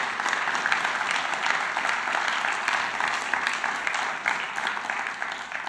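Audience applause fills a conference hall after a talk on plant-based active ingredients for agriculture, a dense continuous clatter of many hands, steady and moderately loud throughout.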